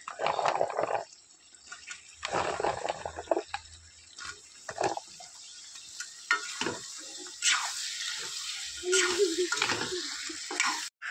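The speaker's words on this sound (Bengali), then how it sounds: "এখন দিয়ে দিচ্ছি ধুয়ে রাখা আলু" Washed potatoes go into goat meat cooking in a pot. Soft, intermittent sizzling and wet clattering come in short bursts, growing louder and more continuous toward the end.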